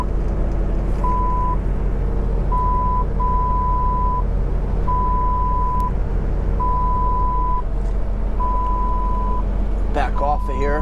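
A truck's steady reversing beeps repeat at even intervals over a loud, constant engine rumble, with a brief voice near the end.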